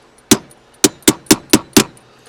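Six sharp, close knocks strike a Nissan shifter knob as it is tapped into place without screws, the first single and the next five in a quick, fairly even series.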